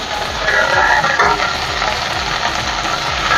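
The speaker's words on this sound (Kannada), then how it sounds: "ಇವಾಗ ಸ್ವಲ್ಪ ಕೊತ್ತಂಬರಿ ಸೊಪ್ಪು ಹಾಕ್ತಾಯಿದ್ದೀನಿ, ಸ್ವಲ್ಪ ಮೆಂತ್ಯ ಸೊಪ್ಪು, ಸ್ವಲ್ಪ ಪುದೀನ. ಇದಿಷ್ಟು ಎಣ್ಣೆಯಲ್ಲಿ ಕರ್ಕೊಳ್ಳೋಣ." Coriander, fenugreek and mint leaves fry in hot oil with a loud, steady, close sizzle, broken by the scrape of stirring, and no talk over it.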